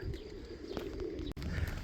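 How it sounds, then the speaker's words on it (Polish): Soft pigeon cooing and rustling close by, with a steady low background hum throughout. "A tu gołębie latają"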